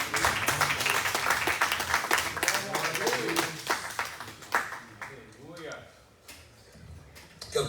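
A church congregation claps steadily and loudly in praise, and voices call out over the clapping before it fades into a quieter stretch with scattered sounds.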